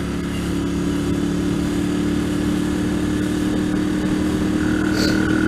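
BMW 1100 GS adventure motorcycle riding along on a Los Angeles road, its steady engine drone and wind rush continuous and close throughout, with no pauses or talk.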